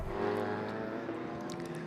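A GT race car at Donington Park accelerates out of a corner with a sustained rising engine drone, heard at moderate distance beneath faint background noise.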